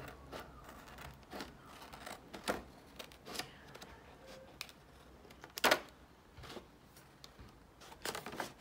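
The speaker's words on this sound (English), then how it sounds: "I'm just going to trim quite closely around this" Scissors trim closely around a paper cutout for a craft fries box, producing faint, scattered snips and papery rustles at an irregular pace, close by and quiet, with no talking.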